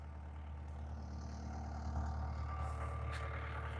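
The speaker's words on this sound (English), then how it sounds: "we'll bring the skid steer over" A skid steer's heavy engine idles and rumbles steadily nearby as it is driven over. The low drone swells slightly midway, with a few faint knocks and no speech.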